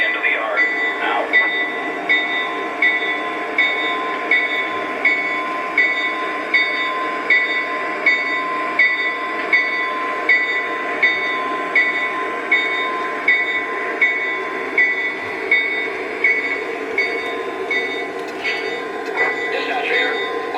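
Train engines move out toward the main line from a rail yard, a steady rolling rumble with a sustained metallic tone and faint clanks running for the whole stretch. Radio-style voices come and go over it.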